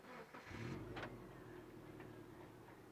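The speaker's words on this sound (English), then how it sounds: "I want to start this vehicle, and I want you to listen to how quiet this Subaru is" A Subaru Forester L.L.Bean Edition cranks briefly and starts, then settles into a quiet, steady idle with a soft low hum and faint ticking.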